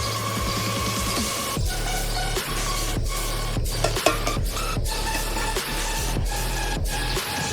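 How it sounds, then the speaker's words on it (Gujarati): A spoon stirs crushed Maggi noodles into rice inside a pressure cooker, scraping the metal pot in repeated rhythmic strokes over a constant low hum. "હવે આપણે હલાવી નાખશું અને પછી આપણે કુકર પેક કરી દઈશું"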